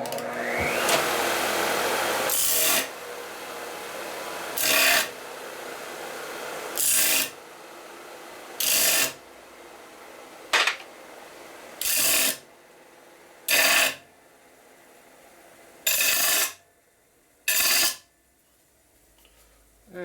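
Repeated bursts of a power grinder working an engine part during a 1983 Harley-Davidson FLTC 80ci Shovelhead rebuild, flattening an edge straight, come in about ten short loud passes of a few seconds each with quiet gaps between them.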